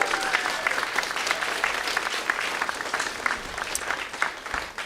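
Audience at the end of a live interactive D&D musical performance breaking into steady applause, dense clapping throughout with a few louder claps and faint crowd noise underneath, fairly close and continuous.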